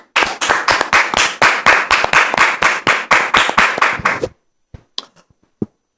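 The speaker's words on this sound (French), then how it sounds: "On le reçoit sous vos applaudissements" Sustained clapping from a TV studio audience for about four seconds, dense and loud, ending abruptly and followed by a few scattered isolated claps.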